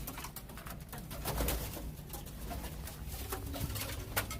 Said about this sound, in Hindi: ये देख सकते हैं आप मेरे कबूतर,